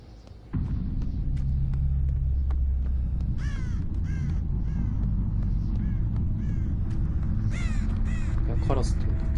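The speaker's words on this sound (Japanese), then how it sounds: "ハイ釣りでも一応カラス飛ぶよな。" Crows cawing in the Dead by Daylight video game, repeated harsh calls breaking out over a steady low rumble of game ambience, with a voice talking throughout.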